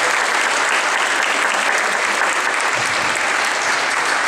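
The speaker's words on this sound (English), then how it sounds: "Let's give them a round of applause." Loud, sustained audience clapping for a high school jazz band's trombone section, a thick even wash of applause close by with no break for its full length.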